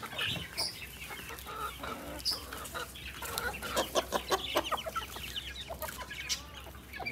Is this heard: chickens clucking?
yes